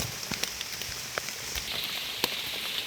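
Rain falling in the Nong Mek forest during mushroom hunting, a steady hiss of drops hitting leaves and ground with scattered sharper taps, close and continuous, with no talking.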